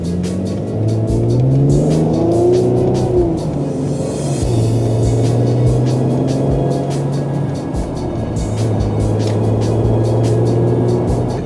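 A Mercedes-Benz GLE 450 AMG drives in comfort mode, its engine holding a steady, low, continuous hum alongside road noise, with a few gear changes and no sharp revving.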